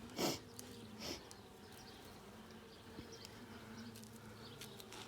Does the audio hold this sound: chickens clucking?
no